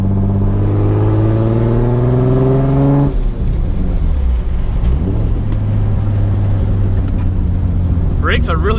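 RB26/30-engined Nissan 240SX S14 pulls in second gear from about 2000 rpm, its deep engine drone climbing steadily, close and loud, then shifting to a steady lower hum with faint turbo whine and a driver talking over it.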